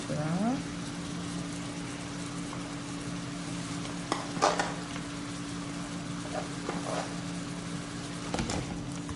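Hard carrots stir-fried in a pan while making japchae, a faint steady sizzle with a few clattering scrapes of a utensil against the pan.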